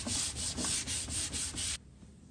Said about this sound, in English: I'm going to give it a nice scuff sand with a high grit